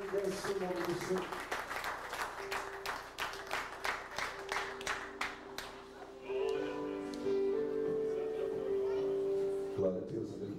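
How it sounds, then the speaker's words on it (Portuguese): A church congregation claps in praise during a worship service, a series of sharp rhythmic claps at first, then blending with sustained organ or keyboard tones and voices. "E mais palmas que exaltam e agradece o nome do Senhor."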